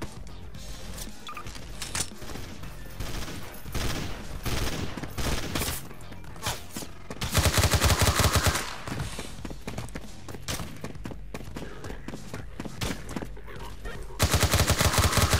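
Rapid gunfire in Garry's Mod NPC team deathmatch, dense volleys of automatic shots and bursts that build to loud, sustained machine-gun fire, close and continuous throughout.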